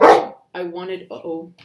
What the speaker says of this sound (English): That was my dog reacting to my partner